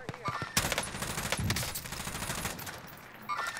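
Bursts of M60 machine gun fire in a video game, rapid and fairly close, trailing off near the end over a low game background.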